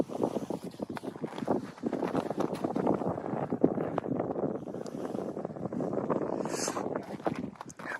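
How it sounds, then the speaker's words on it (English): Strong wind roars on a snowy mountain near Mount St. Helens and Mount Adams, buffeting the microphone in a continuous loud rush with crackling gusts and no voices. "And boy, was it windy and cold."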